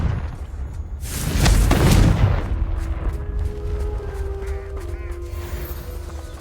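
A Confringo fire spell explodes in the video game Hogwarts Legacy with a loud, booming blast that swells and fades over a couple of seconds, followed by lingering rumble and faint tonal effects.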